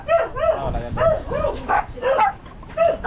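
A dog barks close by in quick repeated bursts, sharp yipping barks coming in a rapid, uneven rhythm.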